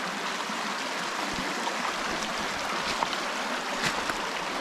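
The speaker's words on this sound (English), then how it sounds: "Made it to the river. I guess this is the river. I don't know. More of a creek at the moment." A low, partly dammed creek that sometimes holds trout flows with a steady, close-up rushing babble, a constant wash of water with small splashy ripples and no other sounds.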